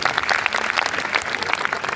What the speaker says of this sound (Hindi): एक बार मेरा मन है कि आपकी तालियां आ जाएं